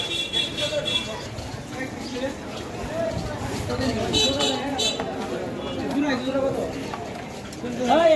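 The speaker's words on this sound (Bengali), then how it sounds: "এটাই তো কবুতরের হাট" Pigeons coo amid a busy pigeon market crowd in Ruhitpur, with steady chatter and people talking nearby throughout.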